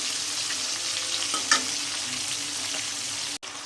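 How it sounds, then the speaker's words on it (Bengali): Fish frying in oil in a home kitchen, a steady close sizzle running throughout with a brief louder spatter midway and a short clatter near the end. "মাছগুলো একটু ভেজে নেব।"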